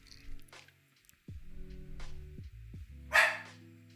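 A dog named Ninja gives a few short, sharp barks and yips at close range amid quiet room noises and electronic tones.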